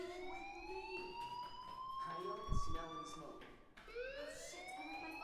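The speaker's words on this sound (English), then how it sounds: "Hey, do you hear that fire alarm? That means you should be outside." A continuous electronic fire alarm with rising, swept siren-like tones sounds steadily inside the video game Life is Strange, filling the whole stretch at moderate level while a brief low thump breaks in partway through.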